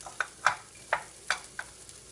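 Turmeric, chili powder and coriander powder sizzle in hot oil in a pan for a Sri Lankan chicken curry, with five short, soft scraping stirs at an uneven pace and no talking.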